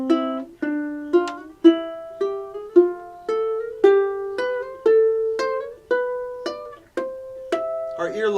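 A ukulele plays a steady run of plucked paired notes in major and minor thirds, climbing up the neck one note at a time, each note ringing clearly and alone and decaying before the next.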